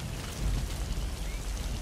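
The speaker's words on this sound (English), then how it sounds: "It started raining." Rain falls in the Metal Gear Solid V: The Phantom Pain game world, a steady broadband hiss of downpour with a low rumble underneath, continuous and without talk.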